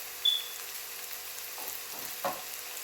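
Sliced onions sauté in a frying pan with a faint, steady sizzle, broken by a couple of soft stirring scrapes.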